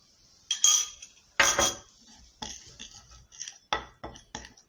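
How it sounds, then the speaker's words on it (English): A lemon juice paste being mixed in a small bowl, a spoon clinking and scraping in uneven bursts of several strokes with quiet gaps, close and alone. "and mix it very well. Let everything mix together."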